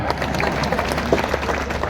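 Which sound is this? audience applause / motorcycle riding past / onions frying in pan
audience applause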